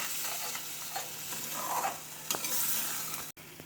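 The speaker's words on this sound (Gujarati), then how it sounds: "આ રીતે સતત હલાવતા જ રહેવાનું" Masala paste stirred continuously in a pan for cauliflower curry, a steady scraping stir over a constant oily sizzle, close and fairly even throughout.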